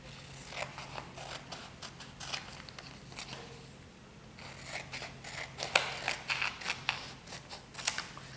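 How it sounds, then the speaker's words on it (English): Excess vinyl trimmed with scissors around the outside of alignment boxes for a two-layer vinyl decal, a series of close, quiet snips and crisp cuts at an uneven pace with no talking. "going to cut some of the extra off just so it's out of the way"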